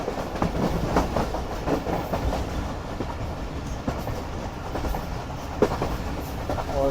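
Jaffer Express passenger train approaching Gujranwala railway station on its way to Lahore, hauled by a Chinese-built locomotive: a steady close rumble with rolling clickety-clack of wheels over rail joints, heard from on board and continuous throughout.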